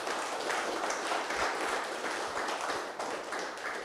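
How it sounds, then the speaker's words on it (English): Audience applause at a football association season-opening ceremony, a steady wash of clapping from a crowd holding at an even level for about four seconds with no voices on top. "Can we have a lusty round of applause?"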